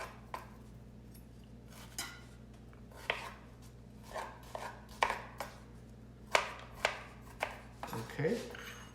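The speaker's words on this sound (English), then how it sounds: "I just cut the end off, cut the green off of the strawberry, cut it in half, oops, cut that in half again" Knife chopping strawberries into bite-sized pieces on a cutting board, a series of soft, close, irregular taps with quiet pauses between cuts.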